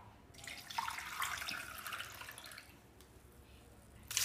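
Water is poured into moringa leaves for soup, a broad rushing splash that swells and then thins out, close by with no talk.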